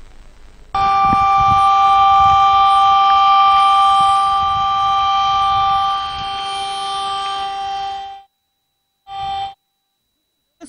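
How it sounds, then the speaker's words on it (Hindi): A loud, steady civil defense warning siren blares a continuous droning tone for several seconds, cuts off, then gives one short final blast, warning residents during flooding near Rawal Dam, Pakistan. "सायरन बजाकर मुल्हिका आबादी को खबरदार कर दिया गया।"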